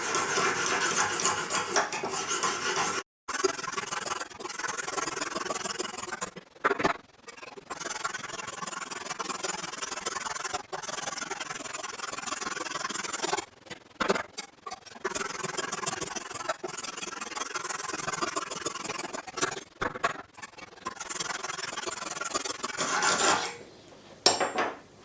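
A knife blade is drawn repeatedly across Lansky sharpening stones, giving a continuous close scraping rasp in long strokes broken by short pauses.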